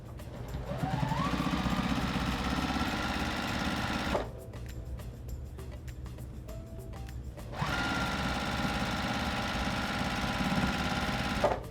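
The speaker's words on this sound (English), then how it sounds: "I'm going to sew up my last little strand here that isn't sewn" A sewing machine runs steadily, stitching down the last loose strand of quilt binding, with a sustained motor whir that pauses for about three seconds in the middle before resuming at a close, even level.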